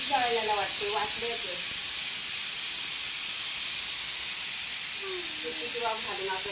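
Steam hisses steadily from rice cooking in a pot as the rice scorches from too little water. The high, continuous hiss lasts throughout, with a person speaking over it at the start and end.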